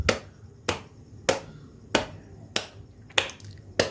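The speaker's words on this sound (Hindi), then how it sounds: "इस तरह से आप तरबूज पर जब अपने हथेली को मारेंगी तो वो भड्ड भड्ड करके आवाज़ नहीं होगा, थप थप करके होगा" A palm slapping a watermelon to test its ripeness, seven crisp, evenly spaced slaps about two-thirds of a second apart, close and alone.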